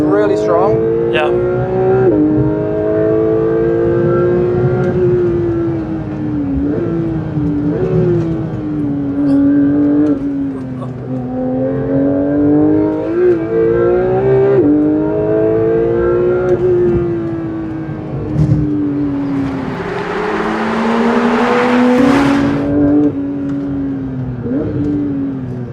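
A Porsche 992 GT3 race car engine on a track, loud and close, rising and falling through repeated revs and shifts, with a burst of wind or tyre roar near the end and voices talking over it.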